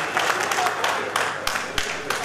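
An audience at an Ugadi celebration applauds in a moderate, scattered patter of clapping, steady over a couple of seconds with a few sharper claps close by.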